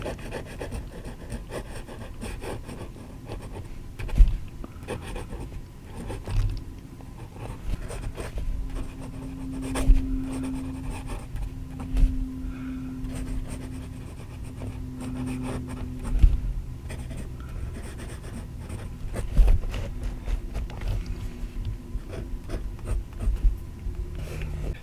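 A Majohn B25 fountain pen nib scratches steadily across paper in soft, close strokes, with faint rhythmic taps as lines are drawn, alone and quiet throughout.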